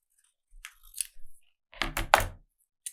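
Scissors cutting through a paper wine label in a short burst of close, crisp snips and rustles, followed by a second, louder cluster of snipping, with no talking.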